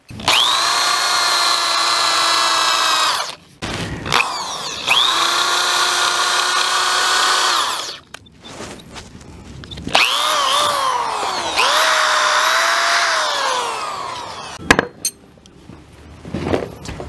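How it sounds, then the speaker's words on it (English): A power drill whines loudly in several long bursts, its pitch rising and dipping as it bores into a log, with short pauses between runs. "the first thing I'll do is drill a hole back here and back here"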